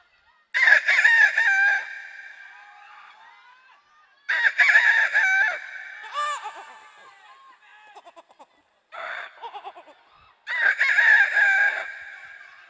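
At a live comedy show, a performer imitates a rooster's cock-a-doodle-doo in four separate loud, close bursts with silent gaps between them. The voiced crows rise and trail off like a real bird's.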